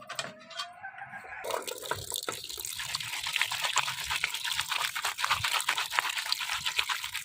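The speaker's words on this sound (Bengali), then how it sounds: "এবার মাছটা ধুয়ে রান্না করে চলে আসি তাড়াতাড়ি।" Tap water runs steadily while fish is washed outdoors on a rooftop, a close continuous splashing gush that starts suddenly after a quiet moment.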